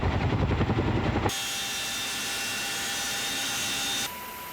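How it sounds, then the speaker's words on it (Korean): A military helicopter carrying a Special Forces skydiving team takes off with a loud rotor thrum, then settles into a steady, even whine and hum that drops off slightly near the end. "상호 활동팀을 태운 헬기가 이륙했다."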